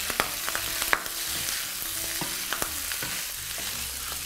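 Pork snouts fry in a pan while being stirred, giving a continuous bright sizzle broken by several sharp spatters and scraping clicks, close and steady with no talk.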